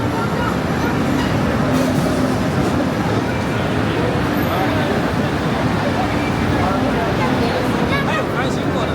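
Boston subway train rolling slowly, a loud continuous rumble and rattle heard from inside the car, steady throughout with voices talking over it.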